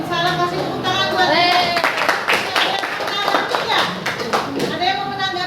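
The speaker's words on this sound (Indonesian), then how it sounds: "Kasih tepuk tangan buat" A classroom group claps for a presentation, with sharp rhythmic hand claps close by while children's voices chatter and talk over the clapping.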